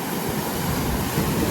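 Sea waves washing in at the Gangeshwar Mahadev temple, a continuous loud roar of surf with wind, steady throughout and with no voices.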